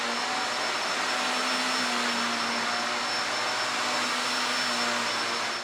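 Eureka OmniVerse upright vacuum cleaner running on carpet, a steady loud motor roar with a high whine that holds constant before cutting off at the end, heard alone.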